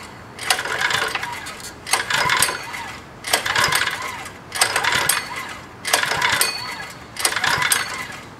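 Six repeated pull-starts of a 3HP four-stroke motorized bike engine on choke, each a rough rasping whir of the recoil cord lasting about a second, evenly spaced with short pauses, close and fairly loud, with no engine catching.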